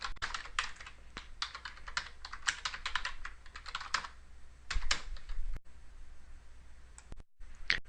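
Someone types an email address and password on a computer keyboard, giving close, rapid bursts of plastic key clicks with short pauses between runs and no talking.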